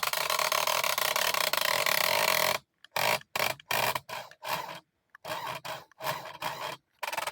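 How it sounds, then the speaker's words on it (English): Electric motor on a LEGO Bowser car whirring loudly and continuously, then running in short stop-start bursts separated by abrupt silences. "it's time to give the actual motor a test run to actually see how much it actually is going to move backwards and forwards"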